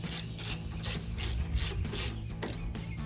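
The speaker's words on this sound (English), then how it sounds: "I'm tightening this bolt down here with a 3/4." A hand ratchet clicks in quick repeated bursts while tightening a bolt on an aftermarket upper control arm of a Silverado 1500 pickup, close and crisp with a steady back-and-forth rhythm.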